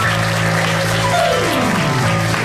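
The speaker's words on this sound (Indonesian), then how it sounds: "Kita kasih tepuk tangan dulu untuk Zeda Salim." Studio audience at an Indonesian television talk show applauding for a guest, a loud sustained burst of clapping close by, with a low tone sweeping underneath.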